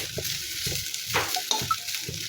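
Curry leaves fry in a little oil. A soft sizzle runs throughout, with a few light stirring knocks and a brief clink, all close and fairly quiet.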